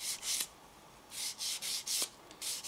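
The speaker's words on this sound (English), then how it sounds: "with the sanding sponge" A sanding sponge rubs against a small hard model wheel in short, repeated scratchy strokes, close and fairly quiet, with brief pauses between passes.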